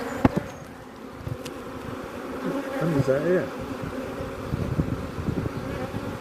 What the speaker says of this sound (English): Look how many bees are on the bottom.